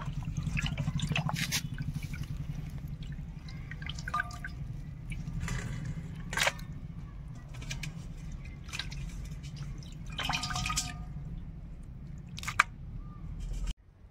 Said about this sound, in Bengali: মাংসটা সুন্দরভাবে ধুয়ে নেব